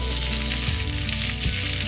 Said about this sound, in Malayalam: ഒന്ന് ബ്രൗൺ ആകാൻ തുടങ്ങുമ്പോഴത്തേക്കും നമുക്ക് സവാള അരിഞ്ഞു വെച്ചിരിക്കുന്നതോടെ ചേർത്ത് കൊടുക്കാം.